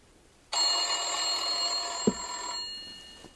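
An old rotary dial telephone rings on its own with a bright, sustained metallic bell tone that starts suddenly, carries a single knock partway through, then fades slightly, with no speech.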